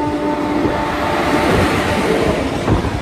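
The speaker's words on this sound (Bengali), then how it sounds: "সামনে থেকে একটি লোকাল ট্রেন আসছে" A local train passes nearby on the Howrah–Digha line, a loud continuous rolling rumble of wheels on track with faint clatter throughout.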